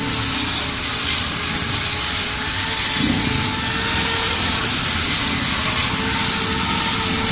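An angle grinder sanding an installed iron stair, a steady loud abrasive whine and rasp running continuously with slight rhythmic scraping pulses throughout.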